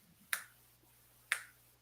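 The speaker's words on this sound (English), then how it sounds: "So I'm going to clap my fingers again" Two crisp finger snaps about a second apart, close to the microphone in a quiet room, each a sharp isolated click over a faint low hum.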